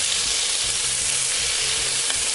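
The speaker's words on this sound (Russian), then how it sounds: "теперь уже на разогревшуюся сковородку отправляем всего кальмара" Whole squid fried in a preheated pan on high heat, a loud, continuous sizzle close by, with a faint low rhythmic stirring or scraping beneath.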